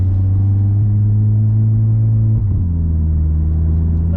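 A 612 bhp Golf R with a DQ500 gearbox pulls through a rolling launch, its engine a loud, close, steady droning rumble that shifts pitch partway through.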